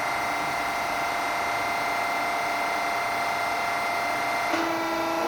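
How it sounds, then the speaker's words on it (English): An Okamoto fully automatic three-axis surface grinder, 12 by 24 inch, runs in plunge feed with a steady mechanical hum and whine that stays constant throughout; a faint tonal shift comes near the end. "Now we're going to put it into plunge feed."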